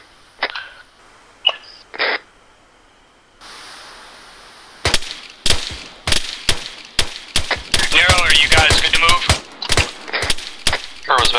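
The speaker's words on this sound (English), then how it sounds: "We're taking fire" Enemy gunfire in ARMA 3 sounds as sharp single cracks, then a dense stretch of rapid, mixed near and distant shots and bursts, with brief voices in between.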